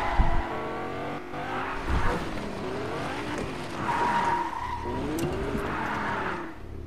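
Game car skidding and sliding with squealing tires and a revving engine, loud and continuous throughout with surges in pitch as it swerves.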